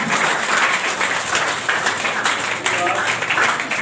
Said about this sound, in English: please clap for Risha Khan from grade 2A.